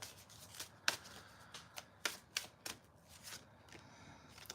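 Tarot cards are shuffled and drawn, making a series of soft, irregular riffling and snapping flicks, close but faint, with no voices.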